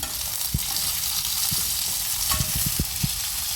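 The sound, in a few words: garlic and chana dal frying in a pan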